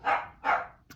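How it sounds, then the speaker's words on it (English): Two loud, close dog barks in quick succession, followed by a brief softer yip at the end. "Sorry, that's my dog."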